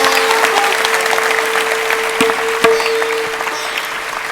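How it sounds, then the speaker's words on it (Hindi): A hall audience applauds a former yoga student named Rakesh during a Navratri spiritual discourse. The clapping is loud, dense and steady from start to finish, with a faint constant hum underneath and no speech. "इन सब के लिए एक बार फिर से जोरदार ताली करता हूं।"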